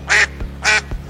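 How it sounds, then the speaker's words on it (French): Two loud, close duck quacks, evenly spaced about half a second apart, standing alone as a sound effect. "On pourrait presque entendre les canards."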